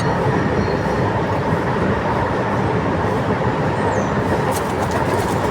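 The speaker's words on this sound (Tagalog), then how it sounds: "Ayan ang LRT oh." An LRT light rail train passes nearby with a steady, loud rumble of wheels on track. The noise holds constant throughout, with faint squeals near the end.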